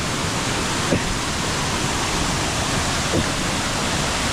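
Pathankayam waterfall on the Narangathodu climb, a loud, dense, continuous roar of falling water that fills the whole scene, with no speech.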